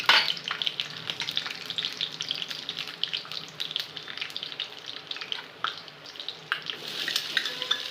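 Cumin and mustard seeds fry in hot oil with a steady crackling sizzle and scattered pops, moderately close and continuous, with no talking.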